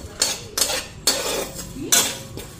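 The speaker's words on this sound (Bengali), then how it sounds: "জিরা আর ধনিয়া একটু ভাজা নিতেছি" Cumin and coriander are stirred in a frying pan, with a spoon scraping and clanking against the metal in four loud, evenly spaced strokes and no voices.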